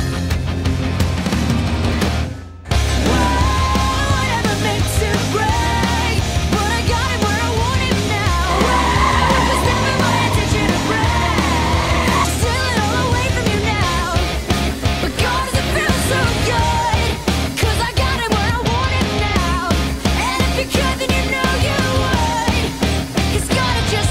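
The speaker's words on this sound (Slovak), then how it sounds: "Na začiatku som premýšľal, či motorka bude dostatočne silná na takéto triky a môj agresívny štýl" A KTM Duke 125 motorcycle performing stunts in Prague, with a loud, continuous engine roar and revving, skidding tire squeal throughout and a brief drop in the sound near the start.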